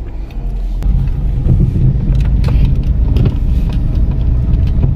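A vehicle engine runs steadily and fairly loud as it is put into first gear on a rural farm, a low continuous rumble with no talk over it.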